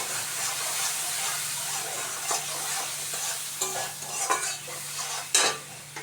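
Tomato sauce goes into a hot frying pan, giving a steady close sizzle and hiss with stirring scrapes and a few sharp spatters, no one talking.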